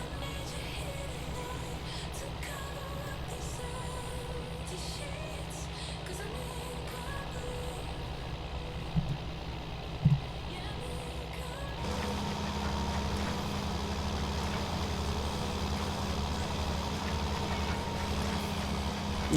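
A tractor engine in the farming video game Farming Simulator 19 idles and drones steadily at low pitch with a faint mechanical hum throughout. The tone shifts slightly partway through, and no one speaks.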